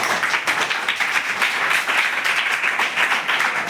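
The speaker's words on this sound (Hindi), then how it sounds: "जोरदार तालियां एक बार" Steady applause fills a school classroom as students clap together after a talk at an extempore and debate practice, a dense, even patter of many hands held at constant loudness throughout with no voices over it.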